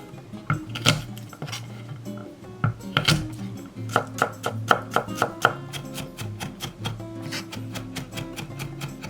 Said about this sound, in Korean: 양념에 들어갈 마늘 3개도 다졌다.